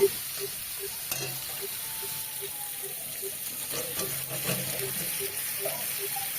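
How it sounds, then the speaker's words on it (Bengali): Potatoes being sautéed for a stingray fish curry give a soft, steady sizzle near the pan, with a regular faint ticking and a few light stirring scrapes over it. "আলুগুলো দিয়ে কষিয়ে নেব"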